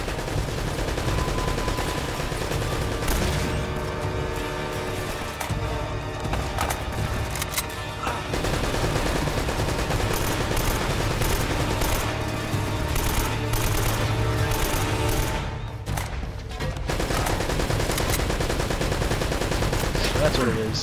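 Rapid gunfire in the video game Uncharted: Drake's Fortune, a dense, continuous rattle of shots that runs almost unbroken for about twenty seconds, loud and close over a busy game soundtrack.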